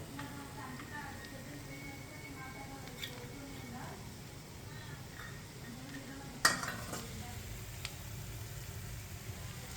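Khandoli bhaji with red chilli powder and spices being stirred in a pan, with soft scraping and light sizzling throughout, one sharp utensil clink partway, faint voices in the background.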